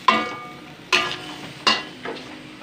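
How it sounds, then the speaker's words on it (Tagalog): Pork fat frying in a pan for Filipino adobo, heard as several sharp sizzling bursts spaced under a second apart as pieces are stirred or dropped, each fading quickly, close and fairly loud with no talk. "Iprito-prito ko muna siya."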